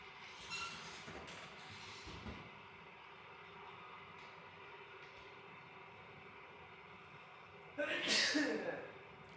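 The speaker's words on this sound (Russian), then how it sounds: "И я чихаю." A single loud sneeze bursts out near the end after several seconds of quiet room noise and faint breathing, in a home during a morning routine.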